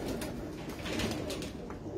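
A pigeon from a flying-pigeon loft coos softly, low murmuring calls against a faint background, close but quiet over two seconds.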